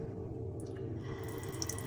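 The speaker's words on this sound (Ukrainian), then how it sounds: "Тече маленький напор холодної води." A newly installed mixer tap runs a small stream of cold water into a sink, a soft, steady close-up trickle with faint splashes and no voices.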